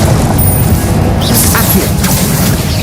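A Confringo explosion spell in Hogwarts Legacy, a loud, full-band blast with a bright crackling burst against dense, constant game noise.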